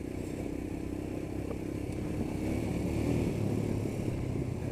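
A Royal Enfield Himalayan motorcycle ridden in Kathmandu, Nepal, its single-cylinder engine giving a steady low thumping drone under wind noise that swells slightly partway through.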